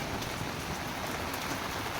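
Steady rain pattering on a surface nearby, a dense, even hiss of drops with no other sounds.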